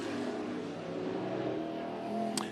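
IMCA Northern Sport Mod race cars roar around a dirt oval at Deuce of Clubs Thunder Raceway in Show Low, Arizona, during a night heat race, their engines a loud, continuous, droning blend of revving motors with no voices.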